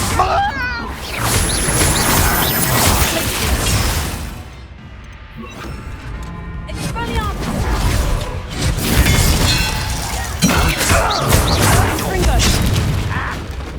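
Blasts from the Confringo fire spell in Hogwarts Legacy boom and crash repeatedly, loud and close, mixed with game sound effects and spoken voices between the explosions.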